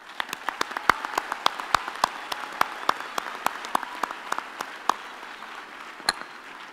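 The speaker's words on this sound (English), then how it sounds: "we should give them all a big hand of applause" Sparse applause from an audience at a university graduation ceremony, individual claps standing out in an irregular patter over a quiet hall, with no voices.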